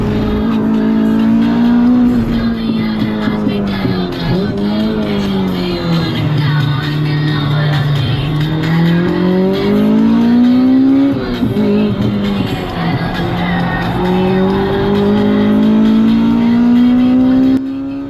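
A Honda EK race car with a K20 engine howls around a track at high revs, rising and falling through gear changes and corners, loud and close from onboard, with no speech.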